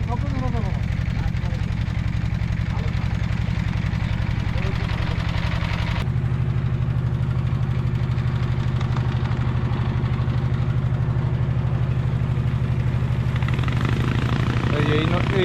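The engine of a Bangla country boat runs in a steady low, throbbing drone that stays close and constant throughout, with faint voices briefly audible near the start.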